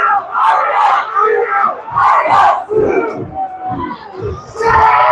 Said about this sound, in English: And here's all the stomping